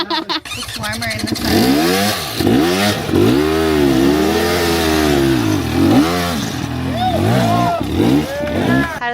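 Dirt bike engine revving loud and near as it climbs a rough trail, pitch rising and falling in repeated surges, with people talking over it.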